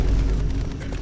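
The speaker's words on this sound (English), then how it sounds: "Thank you for the vine thud." A deep, heavy boom of the Vine thud meme sound effect, loud and booming with a low rumbling tail across the short clip, no voices.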